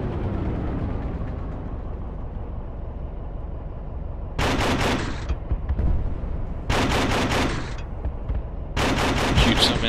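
Gunfire in the video game Project Reality during an urban assault-vehicle round, bursts of loud automatic fire in three distinct volleys over a constant rumbling engine-like background.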